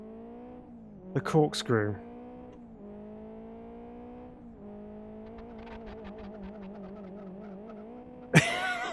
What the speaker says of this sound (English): Quick handbrake turn around here